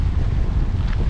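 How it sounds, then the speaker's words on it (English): Gusty wind near Thunderball Grotto buffets the microphone with a low, rumbling roar, constant and close, no voices. "it's a bit windy"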